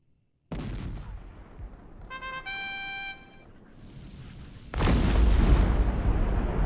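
Cannon fire in the PC strategy game Cossacks: Back To War, a sudden booming blast that rolls away, a brief tonal game chime, then a second heavier roaring volley, loud and close.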